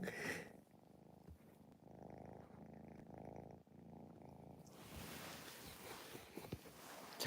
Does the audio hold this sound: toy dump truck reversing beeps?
no